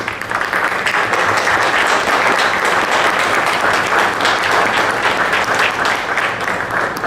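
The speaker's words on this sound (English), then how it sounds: "Can we all rise, please, and give him a very big round of applause." Standing audience at a St. Stephen's College alumni association launch gives a loud, steady round of applause, many hands clapping continuously for about seven seconds.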